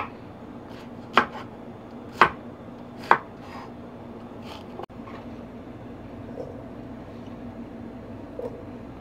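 A kitchen knife chops vegetables into 2 cm pieces on a cutting board for a chive and cucumber salad: three sharp, evenly spaced strikes about a second apart, then quiet room tone.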